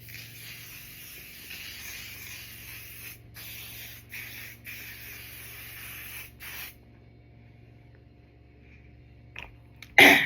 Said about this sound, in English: you're just going to spray it across your face